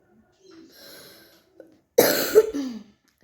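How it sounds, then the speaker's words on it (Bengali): A sudden harsh cough bursts out after a quiet stretch, loud and close, with a raspy second hack trailing off behind it. "আমার হয়েছে প্রচণ্ড কাশি।"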